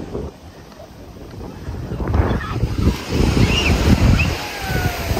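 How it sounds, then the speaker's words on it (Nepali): Big ocean waves break at a Cornwall beach with a broad, rushing roar that builds and surges, mixed with heavy wind buffeting the microphone. "कत्रो छाल आउँदो रहेछ त यहाँ त"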